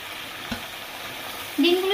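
Boiled eggs going into simmering curry gravy in a pan for a Bengali duck egg dish, a soft sizzle and bubbling with one brief clatter, then a louder burst of frying near the end.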